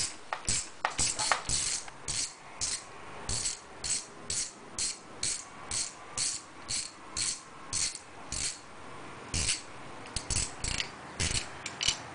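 Ratchet wrench turning the 6mm hex bolts on a Ducati Monster 696 handlebar clamp: rapid clicking ratchet bursts in repeated short strokes, close and moderately loud, with no talking.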